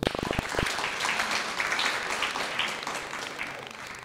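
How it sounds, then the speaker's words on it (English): An audience gives a round of applause at a Gauteng co-operatives accelerator bootcamp session, with a few sharp individual claps at the start swelling into steady crowd clapping that gradually thins toward the end. "please a round of applause"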